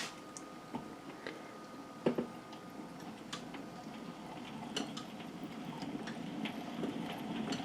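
A hand-cranked honey extractor spins during a honey harvest, giving a soft mechanical whir with faint ticking and clicks that grows slightly as the crank speeds up.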